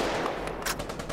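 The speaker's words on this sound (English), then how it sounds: "that was a sniper" A sniper rifle shot in the heist video game Payday 2, a single sharp crack that sits amid steady, noisy in-game background sound with no speech.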